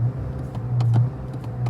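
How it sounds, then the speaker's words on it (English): Audi A4 engine idling with a steady low drone and a gentle rise in revs near the middle, close and continuous with no talk. "Let's vroom the car."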